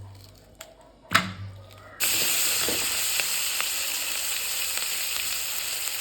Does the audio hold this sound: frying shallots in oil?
yes